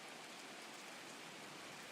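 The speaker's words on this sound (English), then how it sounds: "the rain is falling now" Rain falls over Lambeau Field, the outdoor NFL stadium in Green Bay, Wisconsin, as a faint, even, continuous hiss with no distinct drops standing out.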